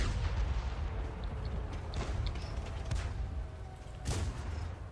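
Tank cannon fire in the World of Tanks video game: a few muffled booms and thuds, the loudest near the end, over a dense, rumbling battle din with no talking.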